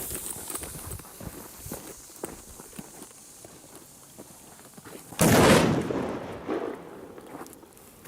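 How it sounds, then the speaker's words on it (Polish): A loud, sharp bang from a Titanium Bombers firecracker laid loose on the ground bursts out after several seconds of quiet scuffing and footsteps, followed by a short rumbling tail fading away outdoors. "zaczniemy sobie od luźno położonej petatki na ziemi"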